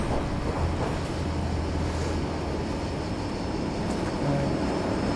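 An aircraft flies in the video game Just Cause 2, a low, steady engine drone that holds at a moderate level throughout with no talk over it.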